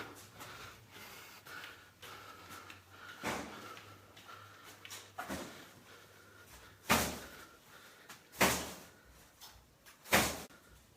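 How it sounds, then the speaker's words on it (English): A door banging inside an empty house during a paranormal investigation. A few soft knocks come first, then three loud, sharp bangs at irregular intervals over a low background hum. "The door is banging."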